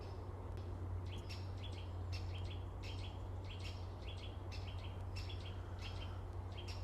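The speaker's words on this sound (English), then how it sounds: "Can hear a woodpecker behind me as well." A woodpecker calls at dawn among trees, its short, sharp notes repeating in quick bursts over a steady low hum and soft background hiss.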